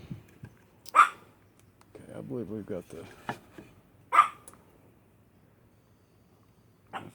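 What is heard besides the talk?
dogs barking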